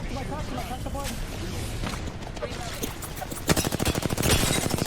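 Rapid automatic gunfire in the Apex Legends video game, with dense bursts building toward the end, mixed with other game sounds and loud continuous background.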